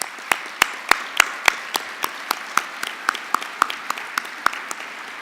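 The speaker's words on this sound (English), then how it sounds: "give them a round of applause" Claps ring out for wounded warriors at the Stars and Stripes dinner, a sparse, evenly spaced run of about twenty sharp, distinct hand claps across the clip, moderately loud and close, with no voices.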